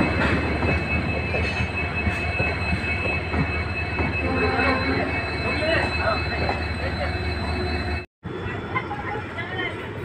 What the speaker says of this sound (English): Solapur Dharwad passenger, which is departing from Gadag Junction.